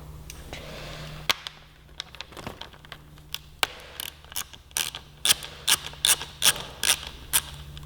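A ratchet and socket work a 10mm hex nut on a Suzuki GSX-R1000, giving a series of sharp clicking bursts, sparse at first and then quicker and louder, over a low steady hum.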